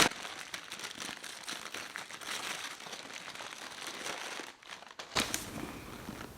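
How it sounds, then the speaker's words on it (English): Wrapping crinkles and rustles close by as vintage Coach bags are unpacked, a quiet, continuous papery crackle with a few sharper crunches near the end. "Now they seem to all be wrapped, so there's gonna be a lot of crinkling"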